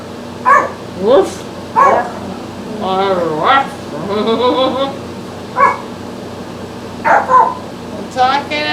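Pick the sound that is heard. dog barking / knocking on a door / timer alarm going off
dog barking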